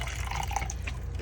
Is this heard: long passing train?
no